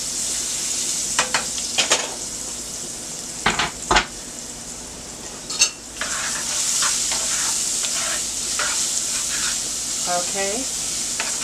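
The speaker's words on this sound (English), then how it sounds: "all I have to do now is just add my onions. Okay, and I'm going to let that sweat." Onions sweat and sizzle in oil in a pan, a steady frying hiss broken by clinks and scrapes of cookware and stirring, with a person speaking briefly nearby.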